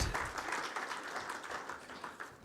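Indoor audience at a fertilizer website launch applauds the program lead, a steady, moderately loud patter of many hands clapping throughout.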